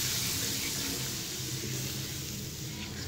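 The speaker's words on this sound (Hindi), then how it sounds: "अब मैं इसके अंदर दूध ऐड कर दूंगी" Milk pours steadily into light-brown roasted semolina for suji halwa, a continuous liquid rush with faint sizzle running close and fairly loud through the whole moment, no voices.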